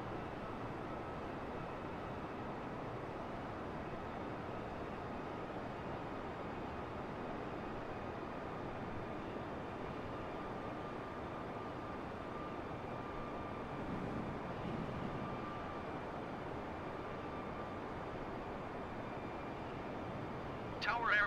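An Airbus A320 in a flight simulator game on approach to Kai Tak in Hong Kong at about 3,300 feet: a steady, even engine and airframe drone holds unbroken throughout.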